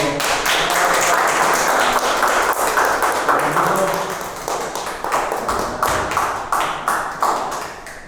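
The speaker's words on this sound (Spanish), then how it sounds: "Y un fuerte aplauso" An audience applauds at a literary session with invited writers, a dense wash of clapping that stays steady and close, then thins and tapers toward the end.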